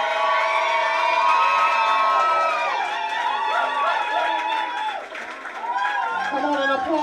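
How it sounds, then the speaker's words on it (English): Wedding reception crowd cheering, whooping and applauding as newlyweds are introduced; loud, continuous shouts and claps with a few voices rising above, dipping briefly near the end before swelling again. "put your hands together for Mr. and Mrs. Rodney and McKenna Cromartie"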